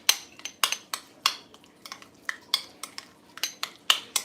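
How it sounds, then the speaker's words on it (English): A utensil clinks and scrapes against a bowl while mashing egg yolk into other ingredients for deviled eggs, producing a steady, close run of sharp taps and short stirring strokes. "I now mix the yolk in with all these ingredients, which is the yolk of the egg."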